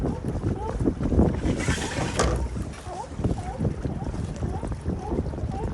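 An electric motor boat cruising at half throttle, with water and wind noise rushing past, while people talk over the steady churn.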